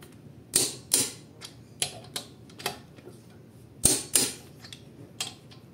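A 17 mm socket wrench works a bolt on a Suzuki DA17V van, giving sharp, close metallic clicks at irregular intervals, some in quick pairs, over a quiet background.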